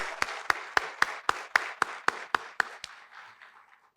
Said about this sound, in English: let's give a big round of applause to each and everyone with a high energy